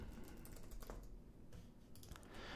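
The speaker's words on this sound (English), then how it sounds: "What we're going to go ahead and do is we're going to go ahead and type in the email address." Quiet, close computer keyboard typing as an email address is entered, a quick irregular run of soft key clicks with brief pauses.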